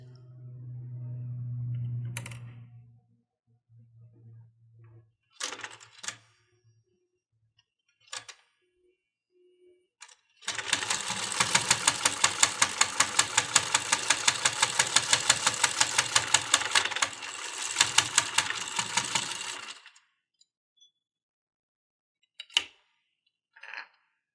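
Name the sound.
sewing pages of a needle book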